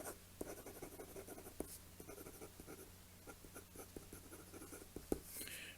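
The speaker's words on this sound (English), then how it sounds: "it stands up to some quick writing" A fountain pen nib scratches quickly across paper in short, close strokes and taps, faint and irregular, with no voice over it.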